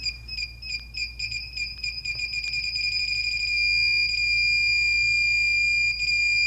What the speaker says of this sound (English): And the beep speeds up as you get closer to alignment.